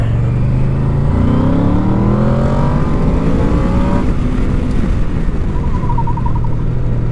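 A Yamaha VMAX motorcycle with a stock exhaust revs hard, its loud, close engine note climbing steadily in pitch, then dropping back and settling into a steady rumble without any voices.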